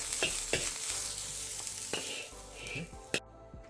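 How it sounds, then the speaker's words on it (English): Halibut fried rice is stirred in a hot wok with a steady sizzle, punctuated by several sharp scraping strokes of the spatula against the metal before the pan goes quiet. "We'll stir it up and take it off"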